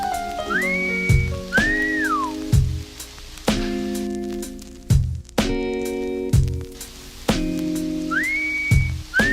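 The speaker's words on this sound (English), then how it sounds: "You know how to whistle, don't you" Several short whistled notes rise and bend, separated by sharp percussive knocks and a bright, tonal backing, fairly close and clear.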